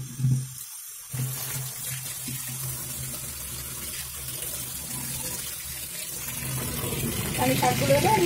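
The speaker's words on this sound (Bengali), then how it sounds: "তো এবার আমি এই শাকগুলো ধুয়ে নেব ভালো করে।" Tap water runs steadily into a sink while leafy greens are rinsed, a continuous gushing wash with a brief pause near the start and a slight swell toward the end.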